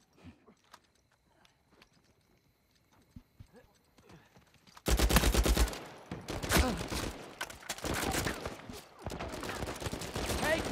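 Rapid bursts of gunfire from Uncharted 4 multiplayer blind firing, loud and dense after a quiet opening of soft clicks, with brief gaps between volleys and scattered talk.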